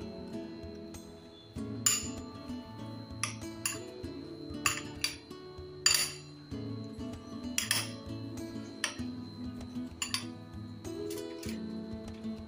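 Spoon clinking and scraping against a bowl while mixing crushed ginger garlic paste into a marinade for chilli paneer, with repeated sharp clinks in an irregular rhythm over faint background hum and no talking.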